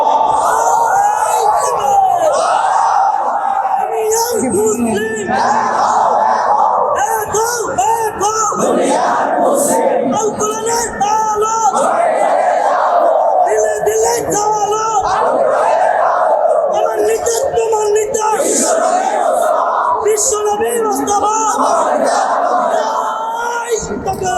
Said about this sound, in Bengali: এই তাকবীরের কথা বলা হয়েছে, জোরে তাকবীর দাও।